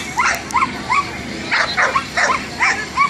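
A dog at a pet rescue booth during a lead chase game at an arts festival gives a run of short yips and whimpering barks, about eight quick close bursts with brief gaps between them.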